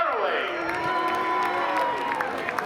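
Spectators at Seekonk Speedway cheer, whoop and applaud a driver before a Pro Stock feature, a continuous roar of crowd noise and clapping that stays strong and even for the whole stretch.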